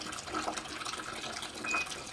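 Hot water running steadily into a washing machine drum on a hot-water wash programme, a continuous close rushing fill with a faint flowing texture and no voices.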